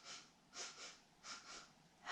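Quick pairs of short, quiet sniffs drawn in through the nose, imitating a rabbit's twitchy breathing, repeated in a steady rhythm during a children's yoga exercise, close and soft with no talk.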